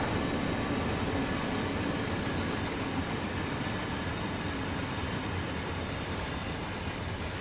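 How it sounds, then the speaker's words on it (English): A big freight train rolls past on Sherman Hill in the Train Sim World 2 game, making a steady, unbroken rumble and rush of wheels and wagons that stays loud and close the whole time. "Let's watch the train pass, as it is a biggie."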